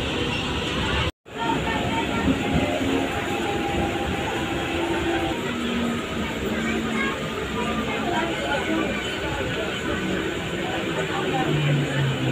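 Inside a local train running from Digha toward Kolkata, a loud, steady rumble of wheels and carriage fills the air with a murmur of passengers' voices, and a brief dropout comes near the start.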